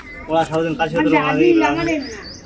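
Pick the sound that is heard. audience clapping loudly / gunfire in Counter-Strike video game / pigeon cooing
pigeon cooing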